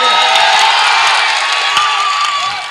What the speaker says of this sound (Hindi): एक एक आदमी की तालियों का शोर पटना तक जाना चाहिए